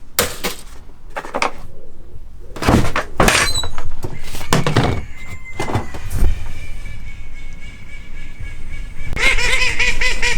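Backyard chickens and ducks honk and squawk in loud, irregular bursts, with clunking knocks and a sustained whistling tone in between.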